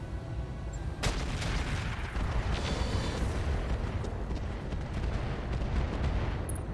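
Mech weapons firing in the RogueTech mod of the BattleTech video game, aimed at a Highlander's rear arc, producing a sharp blast followed by a sustained, dense rumble of gunfire and explosions that continues throughout.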